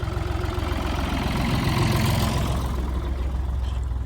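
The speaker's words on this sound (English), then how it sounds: "There's a tractor coming down the road here at the moment, so the sound is going to be a little bit muffled." Tractor engine passing along a road outdoors, a steady low rumbling drone that stays loud and close throughout with no talk over it.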